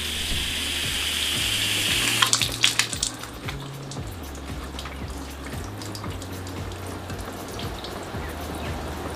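Water sheets off a car panel coated with Infinity Wax QDX graphene wax beside a ceramic coating. A steady, close hiss of spray runs throughout, with a burst of splashing near the start, and no one speaks.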